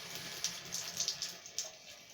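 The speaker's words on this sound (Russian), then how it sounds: "Еле-еле течет, при этом кран не гудит." A repaired hot-water faucet runs a thin, steady trickle with a soft continuous hiss and a few small splashes, close by and quiet, with no humming or droning.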